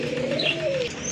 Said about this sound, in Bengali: বিগ সাইজের এক জোড়া বোম্বাই কবুতর আছে